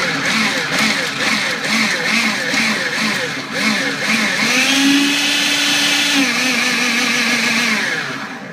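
A food processor runs with a loud whirring drone in short bursts and then a longer steady spin, its motor pitch rising and settling while oil is drizzled in, and a voice speaks over it.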